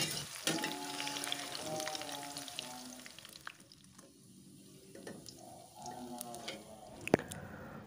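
Tempeh frying in oil, with a steady close sizzle and occasional stirring clinks and scrapes; voices are heard over the cooking.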